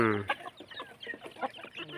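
Farm chickens cluck in short, repeated bursts, close and moderately loud, with one louder call at the very start; no talking.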